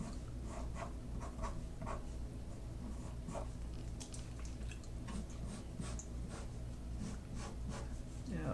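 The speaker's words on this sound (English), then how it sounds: "On this page, I'm going to draw on the back." A pencil scratches across paper in quick strokes while a manga page is sketched, the graphite nearly worn down. The soft, rhythmic scribbles sit close over a low steady hum.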